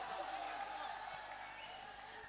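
Steady applause from an audience at a mushaira, Hindi-Urdu poetry recital, a dense continuous patter of clapping that holds at an even level throughout.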